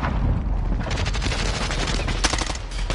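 Gunfire in a multiplayer shooter: dense rapid automatic shots overlapping in a continuous loud barrage, with sharp cracks and a heavy low rumble throughout.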